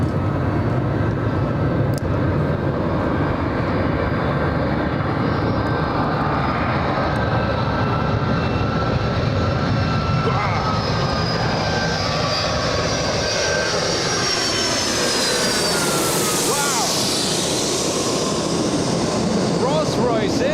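A Boeing 757 with Rolls-Royce engines at LAX roars steadily for the whole stretch, a loud broadband jet rumble that holds constant and then sweeps in pitch as it passes close by.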